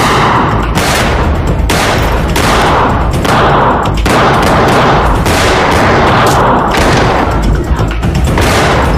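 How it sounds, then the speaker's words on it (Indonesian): A film shootout with repeated loud, heavy gunshots in bursts and single booms, echoing and overlapping across the whole stretch with no pause. "baku tembak pun tak terhindarkan lagi"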